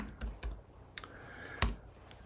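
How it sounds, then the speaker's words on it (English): A handful of keys tapped on a computer keyboard to enter a word, with sparse, separate clicks close by in a quiet room. "So I find it's much easier just to type"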